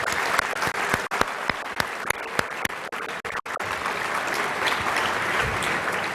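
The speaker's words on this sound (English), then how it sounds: "let's have a nice applause for Master of Science in Computational Finance" Audience applause at an awards reception honoring a Master of Science in Computational Finance recipient: a few sharp early claps swell into dense, sustained clapping that fills the room, moderately loud and steady.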